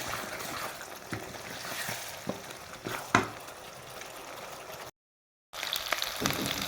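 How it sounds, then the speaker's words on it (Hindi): Potatoes frying and being browned in a pan for a North Indian aloo mattar dish, a steady soft sizzle and crackle with a few louder pops, close by, with a brief dropout near the end. "अब इसके अंदर इस तरह से हम आलू ऐड कर देंगे, ऐसे 2 से 3 मिनट इसकी भुनाई करेंगे।"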